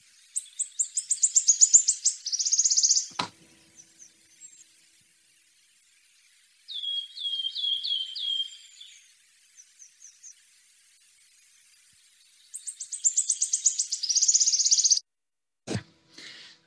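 Recorded wood warbler song played back in the New Forest: accelerating metallic trilling phrases at the start and end, with a softer piping series in between, clear and close, no talk.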